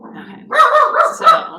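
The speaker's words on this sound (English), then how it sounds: "We got a dog that's barking at a cat." A dog barks at a cat several times in quick, loud bursts, close by, after a brief moment of quieter background sound.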